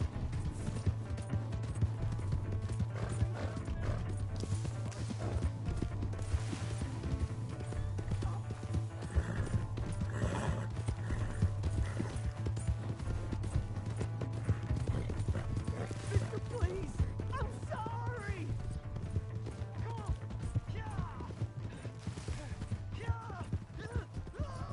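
Horse hooves clip-clopping at a steady pace in the open-world game Red Dead Redemption 2, with a whinny and a low engine-like drone underneath, while voices talk over the game audio throughout.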